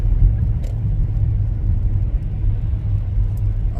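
A car drives along a snowy road on a snow day, giving a steady low rumble of engine and tyre noise from inside the cabin, continuous and fairly loud with no talking.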